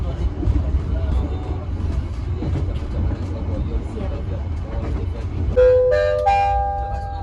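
At Sidoarjo station, the Dhoho commuter train passes the Pandalungan train, a loud continuous low rumble of rolling wheels and engines with rattling, then a sustained multi-tone horn blast near the end.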